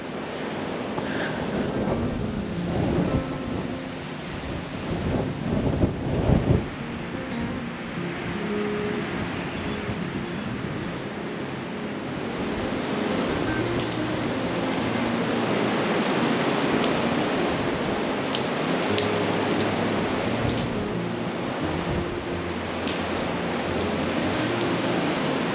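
Steady rain and gusting wind roar together in a continuous wash of noise outdoors in New Zealand, heard from a Toyota Hiace campervan, with a few louder bumps early on.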